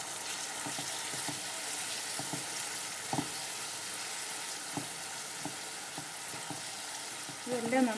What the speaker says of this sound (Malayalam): ഇനി നമുക്കിതിൽ ഈ ശർക്കര പാനി ഒഴിച്ച് കൊടുക്കാം.